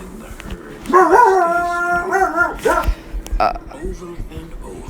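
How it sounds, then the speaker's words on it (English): Dogs bark and yelp excitedly, with a drawn-out howling whine in the middle and shorter yips after it, while a person talks over them. "my dogs are freaking out"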